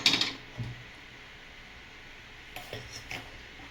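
A metal pan, a bandi for masala vada curry, is set down on a stove with a clatter of cookware, followed later by a few lighter metallic knocks in a quiet kitchen.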